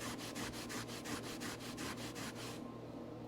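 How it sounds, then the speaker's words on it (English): An aluminum part from a 1983 Kawasaki GPZ1100 motorcycle gets scrubbed with a Scotch-Brite pad in quick back-and-forth strokes, close and rhythmic, for about two and a half seconds before stopping. "I guess a little Scotch-Brite goes a long way. Let's clean it up."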